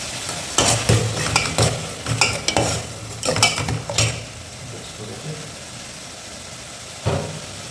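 Onions and mint fry in a pot, stirred briskly with a spoon in a cluster of loud scraping clatters over a soft sizzle, then a pause and one last scrape.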